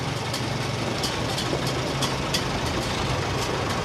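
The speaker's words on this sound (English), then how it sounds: "This tractor will go in excess of 20 miles an hour on the highway." A tractor built for parades and road races, able to exceed 20 mph on the highway, runs at a harvest festival. Its engine holds a steady, continuous idling rumble with a faint knock and no talk.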